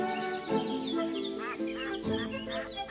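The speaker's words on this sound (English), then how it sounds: "Indian runner ducks. Originally from Southeast Asia, they're related to the European mallard." Indian runner ducks, a mallard relative from Southeast Asia, call in a garden with a run of bright, chattering, rising and falling notes, several birds overlapping at moderate loudness without any talking.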